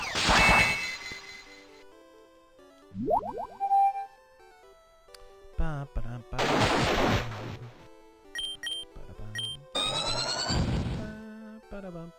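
Electronic battle effects from Pokémon Infinite Fusion as a fused Pokémon uses the fire move Flame Wheel: loud bursts, bright descending and rising synth tones and crackling blasts come in several separate waves, with no voices.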